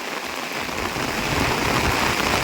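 Heavy rain from Cyclone Michaung pours onto paddy fields as a dense, steady hiss that fills the whole stretch, loud and close, with no voices.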